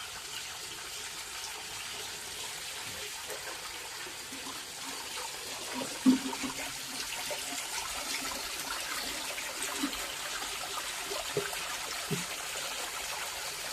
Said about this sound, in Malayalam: ബക്കറ്റാണ് ഇതിലാക്കി വെള്ളം കൊണ്ടിട്ട് വെള്ളം നിറഞ്ഞുകൊണ്ടിരിക്കുകയാണ്